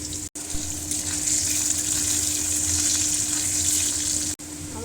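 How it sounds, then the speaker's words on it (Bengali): Potatoes frying in a pan with oil for an aloo soyabean dish: a steady, loud hiss and sizzle that runs continuously, broken by two brief cut-outs. "ভালো করে ভেজে নেব আলুগুলো।"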